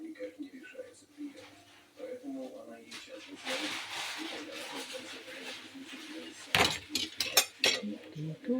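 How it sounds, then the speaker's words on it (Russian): Potato-filled pirozhki sizzling in a frying pan, with a soft hiss of oil followed by a few sharp metallic clinks and clatters as a lid is set on the pan. "Сейчас я их накрою крышкой."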